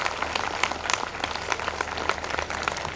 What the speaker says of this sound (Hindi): please give a round of applause, तालियों से जितने भी बच्चों ने आज परफॉर्मेंस दी है